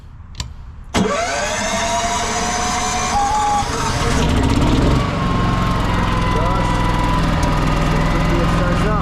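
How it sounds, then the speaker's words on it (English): The onboard generator of a 2025 Intech Black Wing 830 X RV starts with a thump and settles into a loud, steady engine drone close by that grows heavier partway through. "Down below here is our generator."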